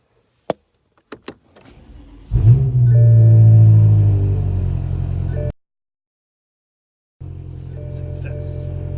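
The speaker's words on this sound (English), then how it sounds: "and start the car." A BMW F10 M5 starting up after a CAS module install: a few faint clicks, then the starter cranks and the engine catches with a loud rising flare before settling into idle, cutting out, and idling again nearby.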